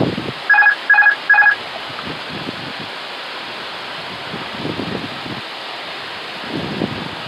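An Airbus A320 cockpit on approach to Funchal, Madeira, sounds three short, evenly spaced electronic tones, the autopilot disconnect warning, and then only a soft steady background hiss remains.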